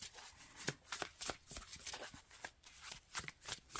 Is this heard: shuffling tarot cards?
yes